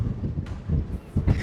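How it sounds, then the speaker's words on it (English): Strong wind buffeting a microphone outdoors: brief, gusty low rumbles pulse in uneven bursts, close and fairly loud. "Oh my god, that's so windy."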